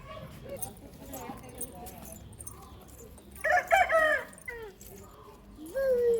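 Chickens on a farm give a couple of loud, close clucking and crowing calls over a murmur of background noise, with people talking nearby.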